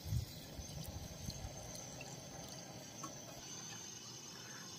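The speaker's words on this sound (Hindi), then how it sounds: "तकरीबन 1 किलो जितना हम इसके अंदर पानी डाल देंगे।" Quiet splashing of about 1 kg of water being poured into a pot holding meat for a curry, a faint continuous trickle with a louder thump at the start and no talking.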